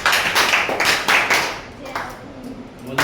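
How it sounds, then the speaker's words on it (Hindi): Children in a class do the Jai Hind clap, a few sharp bursts of group clapping near the start followed by quieter room sound and a final clap at the end. "जय हिंद ताली स्टार्ट।"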